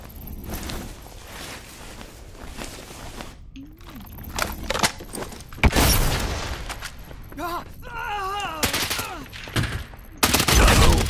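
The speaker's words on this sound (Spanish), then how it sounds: "¿Me estás disparando otra vez?" Bursts of gunfire crackle in the shooter game Lost Light, scattered shots and short volleys mixed with movement noise, while voices talk and shout over the action.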